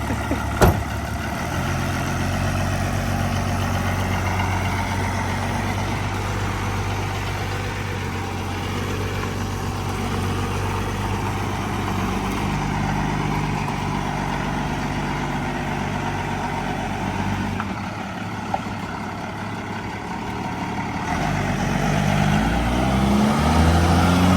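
Steady low rumble of a first-generation Cummins turbo diesel idling in an old mini semi truck, continuous and close for the whole stretch with a slight rise in level near the end; no talking.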